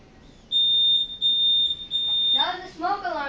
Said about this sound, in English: Now the smoke alarm is going off.